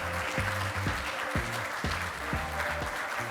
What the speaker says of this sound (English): You can keep clapping if you want to